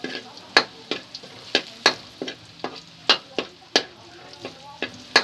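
Crabs sautéing in a hot pan with aromatics, a steady frying sizzle broken by sharp, regular clatters of a utensil stirring against the pan, close and fairly loud.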